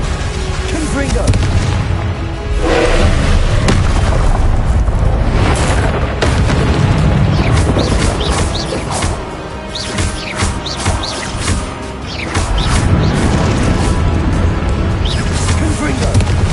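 Confringo blasting spells explode repeatedly in Hogwarts Legacy, a string of loud booming blasts and crashes stacked over busy game combat, with a voice calling out spell names between hits.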